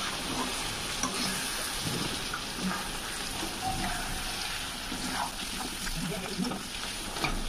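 Cumin and coriander powder sizzle and hiss as spices are stirred and fried in a pan for dhaba-style chicken curry, a steady crackling close by with faint scraping.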